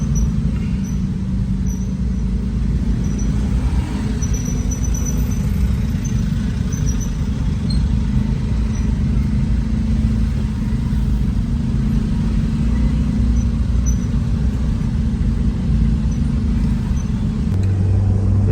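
Steady low rumble of engines and road noise in a traffic jam on a road in Makassar, continuous and close, heard from inside a slowly moving vehicle with no distinct horns.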